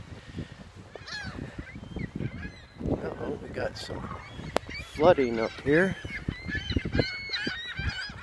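Several gulls call loudly in harsh, overlapping cries after a storm by the water, mixed with honking waterfowl, while someone talks close by.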